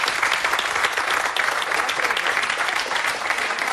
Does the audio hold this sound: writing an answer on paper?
no